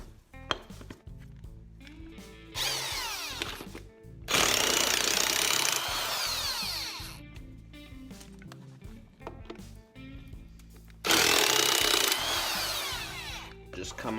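An impact gun rattles in three loud, close bursts of several seconds each while removing the three bolts from a Gravely rim hub, with short pauses of clanking and handling between them.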